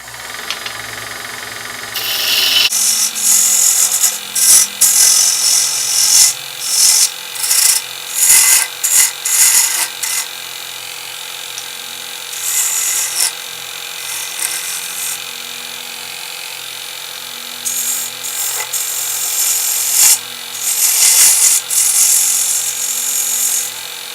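A brass hammer handle spins on a wood lathe under a carbide turning tool, giving repeated rasping scrapes in short bursts over a steady motor hum.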